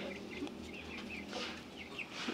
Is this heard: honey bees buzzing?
no